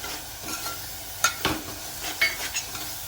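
Tomato with masala, turmeric and salt is stirred in a sizzling pan for a veg biryani base, with a soft fry hiss broken by several close spoon scrapes against the metal.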